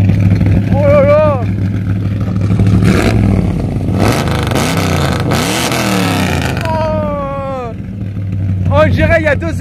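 A Chevrolet Chevelle SS engine revs hard several times, rising and falling in loud throaty bursts up close, with people talking excitedly over and between the revs.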